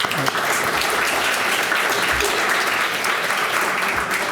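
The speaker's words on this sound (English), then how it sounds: "I'd like to give them a round of applause as well." An audience at a college athletics hall of fame ceremony applauds in a hall, a dense, steady clapping that holds for several seconds at close range.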